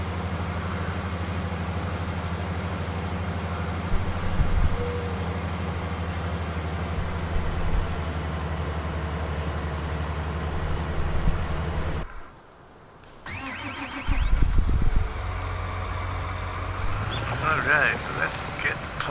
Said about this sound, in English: I have a massive tractor and a great big field to plow.